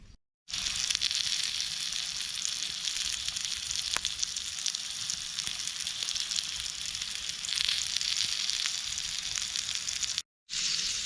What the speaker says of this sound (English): Now I'm gonna cook the all famous London broils.